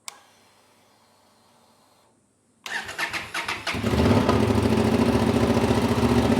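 Honda Transalp XL750 motorcycle fitted with a new header pipe, heard in near silence before the engine cranks and fires up, settling into a loud, steady, throaty idle close by.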